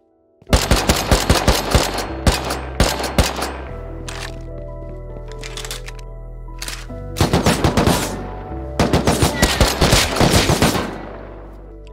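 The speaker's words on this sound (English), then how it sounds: "Is he shooting me through the wall?" Rapid bursts of gunfire in the survival game Rust, fired through a wall: loud, close volleys of sharp cracks in several clusters, with a sustained low drone between them.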